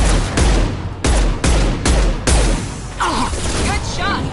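Gunfire in Mass Effect 2: a burst of heavy, loud shots in quick succession, about six sharp blasts with booming tails, followed by a brief warbling electronic effect.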